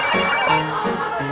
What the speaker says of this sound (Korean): 전화 한 통을 받고 급히 집을 나서는 종진씨.